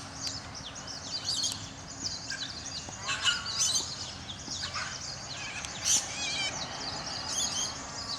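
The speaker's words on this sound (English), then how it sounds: "a number of white cockatoos." Flock of white cockatoos (corellas) in Perth screeching and squawking from a distance, overlapping harsh calls scattered across a faint outdoor background, no speech.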